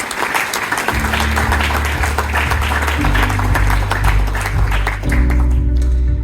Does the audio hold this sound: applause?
yes